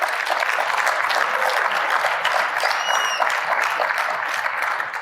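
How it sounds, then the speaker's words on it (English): Sustained applause from a conference audience at the J Street National Conference in Washington, a dense steady wash of clapping hands filling the room at even loudness throughout, with a faint whistle rising briefly above it midway. "I hope you appreciate the applause."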